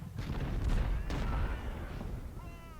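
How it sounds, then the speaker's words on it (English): Civil War cannon fire in the strategy game Ultimate General: Civil War at First Bull Run, a few dull booms and crackling volleys rolling together, moderately distant. "I want this artillery piece to get a couple shots on the enemy artillery"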